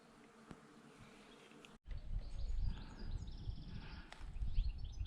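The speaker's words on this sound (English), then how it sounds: "I hope you can hear the bees. They're out in force today," Bees swarm busily among the trees of a spring orchard, a steady close buzzing that swells after a brief pause, with occasional faint bird chirps in the background.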